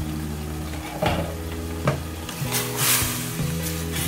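Ampalaya (bitter melon) with meat cooking dry in a pan: steady close sizzling and frying with occasional scrapes and knocks of a utensil stirring against the pan.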